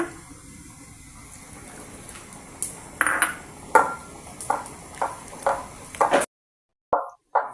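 Water is poured into a bowl of egg and flour batter for soft patishapta, giving a short run of close, clear plops and light splashy pings before falling silent, with no talking.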